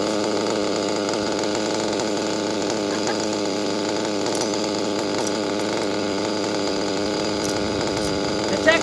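A TEKNO nitro RC car engine held near full throttle after being leaned out, a loud, close, buzzing high-pitched whine that wavers slightly in pitch and runs without a break, with a faint voice underneath.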